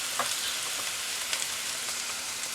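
Sliced bitter melon stir-fries in a generous amount of hot oil in a pan, giving a loud, steady crackling sizzle with small pops and no talking.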